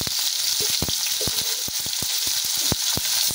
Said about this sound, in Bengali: ওই তেলেতে আমরা পেঁয়াজ কুচিগুলো দিয়ে দেব।